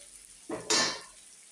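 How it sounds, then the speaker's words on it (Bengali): Onions hit hot oil in a pan to be fried until reddish brown, giving one short, sharp burst of sizzling that swells and fades within about half a second, close by. "পেঁয়াজটা একটু লাল লাল হয়ে ভাজিয়ে দেবো।"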